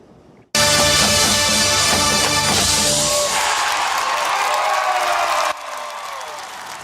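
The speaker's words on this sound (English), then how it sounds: "Why wouldn't the crowd go wild with that?" A crowd roars with cheers and applause for a university marching band's themed performance. The sound bursts in suddenly after a quiet start, stays loud and dense with music underneath, then drops to a lower level near the end.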